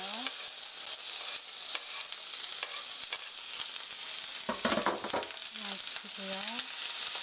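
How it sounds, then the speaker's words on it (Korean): Chopped onion and garlic frying in heated oil for spaghetti tomato sauce, with a steady bright sizzle, frequent spatula stirring scrapes and a brief louder clatter in the middle. "썰어놓은 어니언, 양파, 마늘 넣어주세요."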